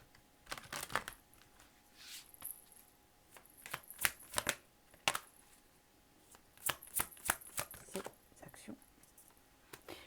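Tarot cards are shuffled and drawn for a reading: crisp, close riffles, flicks and slaps come in quick clusters, while a voice talks intermittently.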